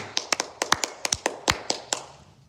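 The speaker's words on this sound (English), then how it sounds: "Everybody give her a round of applause." A small group claps for a girl named Kaylee: about a dozen crisp, close claps in a loose, uneven rhythm that thins out toward the end, with no talking.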